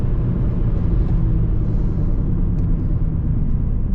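An Infiniti G37's engine runs at steady revs from inside the car, giving a continuous low rumble with no distinct shift change, heard alone without talk.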